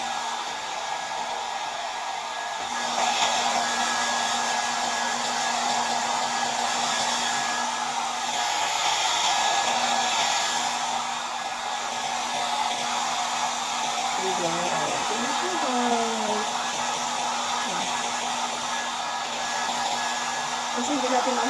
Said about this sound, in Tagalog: So, kailangan natin i-blower.